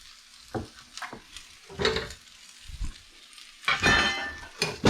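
Frittata ingredients cooking in a pan: short bursts of sizzle and stirring scrape with light clinks of pan and utensils, intermittent and close, separated by brief quiet gaps.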